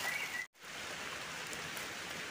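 Light steady rain patters on surfaces outdoors, briefly cut off for a split second before resuming as an even, soft hiss.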